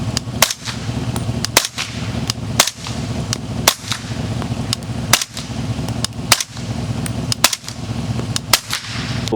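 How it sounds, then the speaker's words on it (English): Suppressed gunshots through a Johnny Law suppressor, about ten sharp, short reports spaced at an irregular, roughly one-second rhythm, fairly close over a steady low background rumble. "I feel like the Johnny Law has a deeper noise and kind of a shorter noise."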